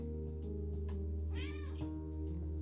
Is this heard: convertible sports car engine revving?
no